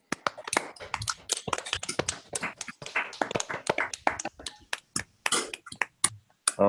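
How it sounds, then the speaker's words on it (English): Scattered, uneven claps from several online session participants, each on their own microphone, sharp dry hits at varying loudness spread across the stretch, with no one speaking. "Let's clap."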